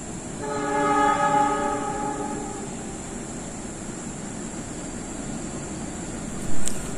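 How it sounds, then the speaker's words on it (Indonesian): The horn of the Argo Wilis train's locomotive blows a long, steady chord for a couple of seconds, then fades into the continuous rumble of the approaching train. "Semboyan 35 sudah terdengar dari lokomotif Argoilis."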